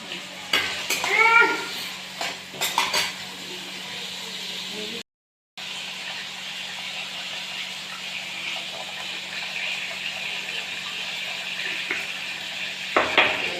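Onions and eggs sizzle steadily in a frying pan while being cooked for Maggi noodles, with occasional stirring clinks and a brief silent break partway through.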